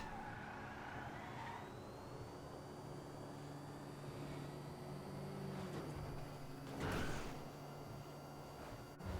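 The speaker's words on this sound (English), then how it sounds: "So the Coil Cyclone 2 is one of the fastest, if not the fastest, accelerating car in all of GTA Online." A Coil Cyclone 2 electric car in GTA Online accelerates with a rising electric whine that climbs steadily in pitch over a low road rumble, moderately loud and close, without talk.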